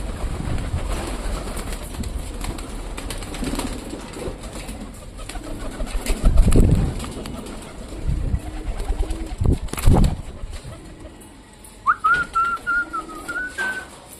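Pigeons gather at feeding time, with soft cooing, brief bursts of wing flapping and a sharp whistle-like call near the end, close and moderately loud over outdoor background noise.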